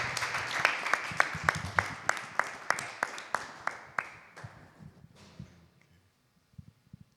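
Audience applause closing a symposium session, with strong rhythmic clapping that slowly thins out and dies away to near silence, followed by a few scattered claps and murmurs.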